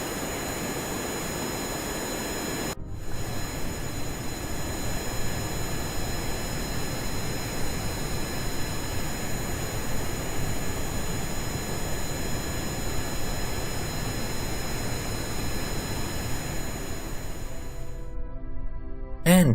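Jet plane cruising in Kerbal Space Program, a steady broad engine roar with a whining tonal hum that starts after a brief cut and holds evenly before ending abruptly.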